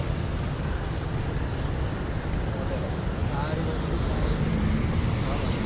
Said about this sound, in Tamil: டிராஃபிக்கு.